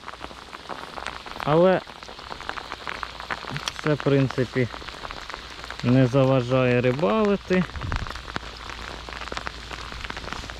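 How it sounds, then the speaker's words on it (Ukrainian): Light rain patters steadily on an outdoor surface during pike fishing, a continuous soft hiss under someone talking in Ukrainian. "Трошки дощик пішов."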